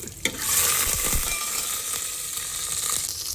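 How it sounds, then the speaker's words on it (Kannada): Mustard seeds and curry leaves frying in hot oil inside a pressure cooker, a steady loud sizzle with sharp crackling pops near the start and scraping stir sounds throughout. "ಕುಕ್ಕರಲ್ಲಿ ಎಣ್ಣೆ ಹಾಕಿ ಚೆನ್ನಾಗಿ ಕಾದಿದ್ದಕ್ಕೆ ಸಾಸಿವೆ ಕಾಳು, ಕರಿಬೇವಿನೆಲೆ ಹಾಕೊಂಡು ಈ ಸ್ವಲ್ಪ ಕೈ ಬಿಡ್ದಂಗೆಲ್ಲ ಫ್ರೈ ಮಾಡ್ತಾ ಬರಬೇಕು"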